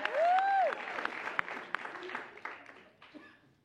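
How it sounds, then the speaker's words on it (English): Brief audience applause at a comedy show, opening with a shout over clapping that quickly thins into scattered claps and fades, with some crowd voices around it. "Round of applause."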